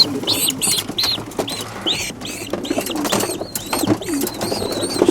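Pigeons packed in a transport basket, young birds unused to being caught and crated, coo and call repeatedly, their soft overlapping vocalizations filling the space up close with no talk.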